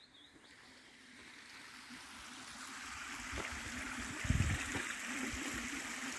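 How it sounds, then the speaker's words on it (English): Steady broadband rush of falling water, like a waterfall or fast stream, continuous and fairly close, with a brief louder thump near the end. "Waterfall again."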